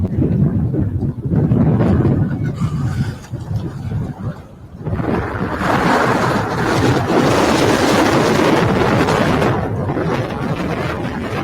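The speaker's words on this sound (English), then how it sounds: "I don't know if you guys can hear all that wind" Strong wind gusts outside the US Capitol buffet the microphone in loud, roaring surges that briefly dip before returning, with no talking.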